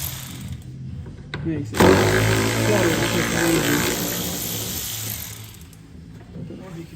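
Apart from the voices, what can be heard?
battery ratchet removing Mazda 2 rear bumper fasteners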